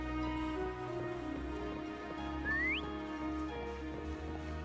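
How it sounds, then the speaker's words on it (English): A character in the Wuthering Waves video game whistles once, a short rising note heard clearly over steady game music and ambience. "Try whistling."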